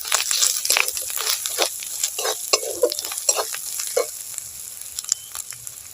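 Home-ground chili powder and turmeric fry in hot oil in a pan for a Bengali prawn curry. A close spoon scrapes and stirs in quick irregular strokes over a constant sizzle.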